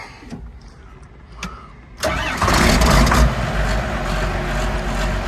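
A John Deere 4840 tractor, rebuilt last year and used on a dairy farm, cranks briefly and then fires, catching into a loud, steady diesel rumble that holds close by.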